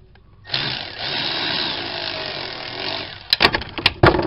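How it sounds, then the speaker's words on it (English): An electric ratchet drops into an oil pan while working on a 2003 Acura TL Type S oil filter housing: a sustained rattling clatter, then several sharp metallic knocks and clanks close by. "So we just dropped our electric ratchet in the oil pan."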